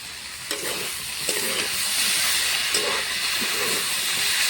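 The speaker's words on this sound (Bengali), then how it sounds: "ভালো করে সবজির সঙ্গে এখন কষিয়ে নেব।" Potatoes and greens with ground ginger, cumin and chili paste sizzle in a pan, a close steady hiss broken by a few scraping stirs of the spoon.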